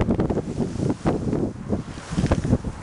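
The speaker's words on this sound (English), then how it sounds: "it's unbelievable how windy it is up here" Strong gusts buffet the microphone in loud, rumbling bursts that rise and fall, with no voices, just roaring low-frequency wind noise throughout.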